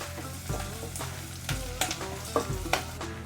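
Crushed ginger, garlic, cinnamon and cardamom fry in hot oil for a chicken curry, with a steady sizzle broken by several clear scrapes and clinks of a spoon stirring the pan.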